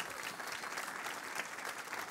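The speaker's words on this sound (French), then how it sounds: "pour Jésus, il mérite vraiment le haut de notre applaudissement." A church congregation applauds, sustained and fairly even clapping from a crowd with no speech over it.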